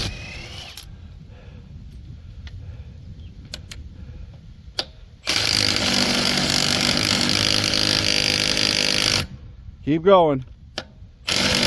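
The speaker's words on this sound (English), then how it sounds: "Getting them wheel and lug nuts off." Lug nuts being removed from a car wheel while swapping to winter snow tires: a loud, sustained burst of mechanical rattling and clatter with a sharp ratcheting sweep near the end, and voices talking before and after.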